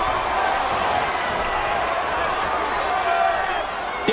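Steady, loud arena crowd noise from the WWE 13 video game on Xbox 360 during a Raw wrestling match between Santino Marella and David Otunga, a continuous roar of cheering that swells slightly near the end.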